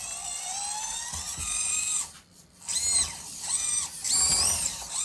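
A Furitek Stinger motor drives an Axial SCX24 RC crawler, giving a thin high electric whine that rises and falls in pitch in bursts as the little truck climbs, with a brief near-silent gap midway.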